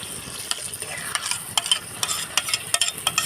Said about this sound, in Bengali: টমেটো বাটাটা দিয়ে দেবো